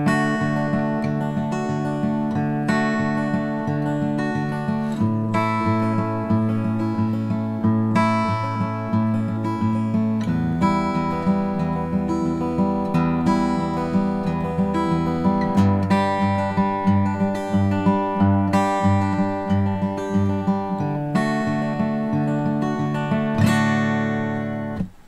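Fingerpicked acoustic guitar playing a repeating arpeggio pattern through a chord progression, bass notes changing every few seconds with steady plucked treble notes, played alone and clearly, ending on a final strummed chord.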